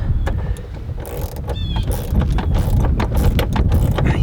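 A 13 mm metric wrench tightens a shear bolt on an MK Martin SB72 snowblower, giving rapid ratcheting clicks and metallic mechanical clatter close up over steady background noise.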